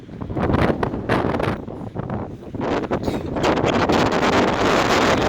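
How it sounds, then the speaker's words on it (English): Strong wind by a bay buffets and roars across the microphone in continuous gusts, rising and falling, with no voices heard. "It's pretty windy."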